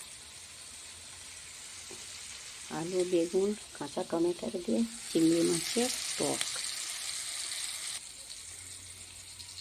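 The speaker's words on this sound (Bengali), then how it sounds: "চিংড়ি মাছ ভাজা হয়ে গেছে, ওই তেলেই পেঁয়াজটা লাল করে নেব" Onions sizzle in oil left in a pan after frying prawns for a green tomato prawn curry, giving a steady soft crackle beneath a voice speaking over it.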